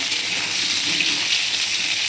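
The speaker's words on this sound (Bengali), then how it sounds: "আর দেখো এই যে পটলটা আলুটা ভাজা করছি" Pointed gourd and potatoes fry in a pan with a steady, close hiss of sizzling oil that holds evenly throughout, with no talking.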